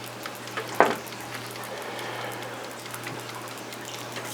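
Onion burgers sizzling on a griddle under a plastic spatula, a faint steady hiss of frying with one short sharp scrape near the start and a few light taps, close and with no voices.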